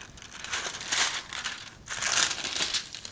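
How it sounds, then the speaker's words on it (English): Plastic film is peeled off a ready-made pub-style beef meatloaf tray, giving two long, close crinkling, crackling passes separated by a short pause, with no talking. "So let's carefully peel this plastic off."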